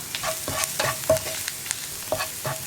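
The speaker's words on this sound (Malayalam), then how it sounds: "ആദ്യം ഈ മഞ്ഞൾപ്പൊടിയും സവോളയും ഒന്ന് കുക്കായി വരട്ടെ. ഒരു 2 മിനിറ്റ് ഒന്ന് ഇളക്കി കൊടുക്കാം." Turmeric powder and onion fry in a pan while a spoon stirs them, giving irregular scraping strokes and light clinks over a soft sizzle, close up with no talk.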